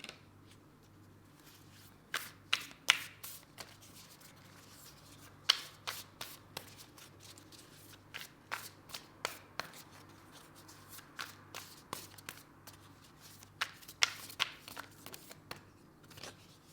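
Oracle cards being shuffled by hand during a tarot reading, repeated crisp riffling bursts in uneven clusters, close and quiet with no talking.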